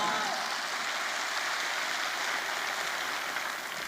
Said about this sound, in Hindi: मिस्टर संजीव सर के एक बार जोरदार ताली।